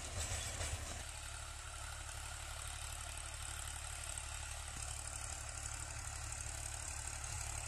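A rotavator tractor engine idling steadily, its continuous low diesel rumble and mechanical clatter holding close and even throughout with no speech.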